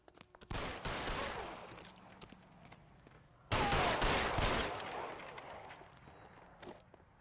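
Bursts of gunfire in the 1940s Los Angeles crime video game L.A. Noire: a ragged volley of shots opens the clip, then a second louder fusillade breaks out midway and tapers into scattered reports, all with no talking.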